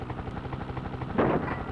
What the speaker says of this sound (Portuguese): Que helicóptero é esse,